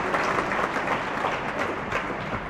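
Spectators at a real tennis doubles semi-final of the British Open applaud in a steady burst of clapping that lasts throughout, moderately loud and close.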